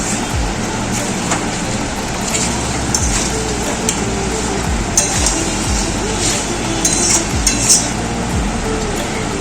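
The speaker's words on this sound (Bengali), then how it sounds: "এবার মশলার সাথে আলু আর মাংসটাকে মিশিয়ে নিচ্ছি।" Mutton and fried potatoes stirred together with spices in a pan, giving steady scraping and light metallic clinks of a utensil over a soft background sizzle, close and continuous.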